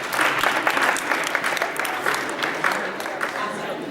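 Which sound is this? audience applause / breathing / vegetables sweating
audience applause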